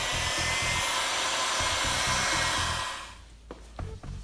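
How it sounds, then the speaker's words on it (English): A heat gun blows hot air to shrink heat-shrink tubing over wire connections on a radio harness for a Honda Accord or Crosstour. The loud, steady whoosh runs for about three seconds, then cuts off, leaving a few faint handling clicks. "shrink them down with the heat gun"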